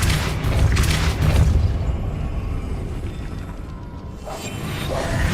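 A Depulso spell is cast in Hogwarts Legacy, giving a loud, deep whooshing boom that swells, fades to a rumble and surges again near the end, with no talk over it.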